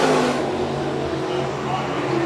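A modified race car roars around the Shelby County Speedway track, its engine held at a steady high drone, with a race announcer talking over it.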